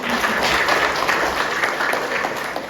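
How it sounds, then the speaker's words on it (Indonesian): Audience applause at a teaching session, steady close clapping from a group that continues evenly throughout without pause. "Ayo kita kasih aplaus dulu"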